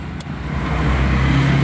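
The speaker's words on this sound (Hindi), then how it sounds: "बस गाड़ी चालू हो गई अभी" A car engine cranked with the key during a driving lesson, settling into a steady low idle rumble that grows slightly louder and holds close by, with no talk over it.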